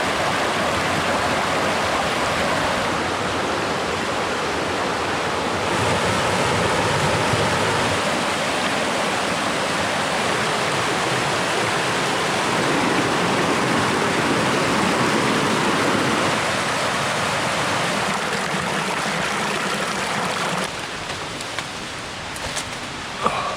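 A mountain brook on a hiking trail in the Mt. Passaconaway and Sleepers area rushes in a steady, loud, continuous wash of flowing water, with no voices over it.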